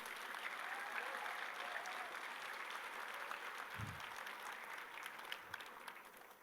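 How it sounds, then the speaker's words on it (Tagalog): A church congregation applauds in a sustained, even wash of clapping that sounds somewhat distant and soft and holds steady from start to finish, with a brief low thump partway through. "Yan ba ang palakpak ng mga nabuhay?"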